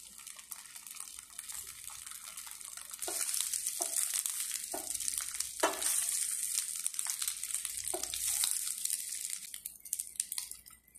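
Steamed poha (flattened rice) frying in a pan, a steady crackling sizzle through the whole stretch with several sharper stirring scrapes or clatters, close and moderately loud, no voices.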